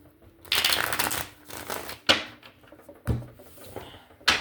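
Tarot cards being shuffled by hand, several quick riffling bursts and sharp slaps of the deck close up, separated by brief pauses.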